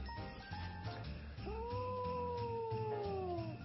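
A cat gives a single long drawn-out meow, rising then slowly falling, fairly close against a low background hum and faint jingling.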